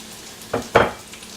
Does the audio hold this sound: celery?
yes